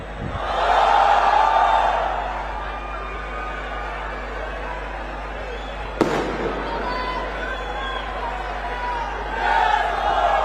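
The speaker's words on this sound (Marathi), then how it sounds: "इथे बरीच गर्दी झालेली आहे." Dense roar of a large crowd at a political rally for Raj Thackeray, a steady wash of many voices with swells of shouting near the start and end and a sharp bang partway through.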